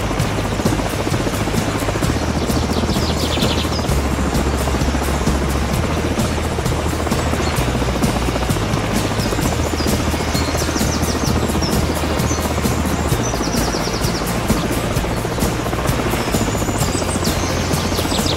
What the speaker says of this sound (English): SLAF Mi-17 helicopter took off from SLAF base Enaradapura this morning